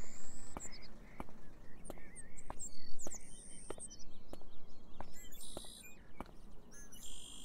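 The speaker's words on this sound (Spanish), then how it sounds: "Se va el pájaro, ¿eh?" Bird chirps in the game Beyond Eyes, several short high tweets scattered across a quiet outdoor ambience, fairly faint and alone with no talk.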